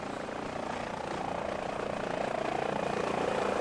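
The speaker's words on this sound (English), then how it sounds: "Right, there's my helicopter." A helicopter in the Microsoft Flight Simulator 2024 video game flies over Slovakia, making a steady, dense rotor and turbine drone at an even, fairly loud level with no talking.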